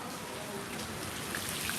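Steady rain falls during an outdoor morning walk, a dense, even hiss of drops spread across the whole clip with no clear pauses.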